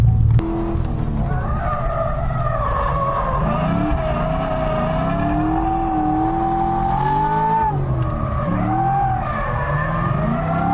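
A 489 whp C6 Corvette drifts on a track on a hot day. Its tyres squeal steadily in a sustained, wavering skid over a loud, close engine roar, with no speech.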